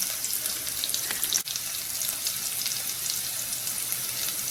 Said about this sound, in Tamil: வெங்காயம் இஞ்சி பூண்டோடைய வாடை போய் அது ப்ரௌன் கலரா மாறணும்.